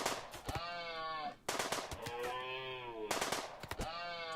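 SMG firing in the video game Rimworld during an alpaca hunt, rapid bursts of gunfire in three clusters with sharp repeated cracks and ringing tonal tails, fairly faint and without speech.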